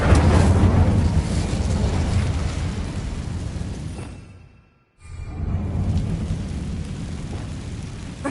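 A fiery blast from the Incendio spell in Hogwarts Legacy roars loud and continuous, fades briefly into near silence midway, then surges back just as strong, with no talking.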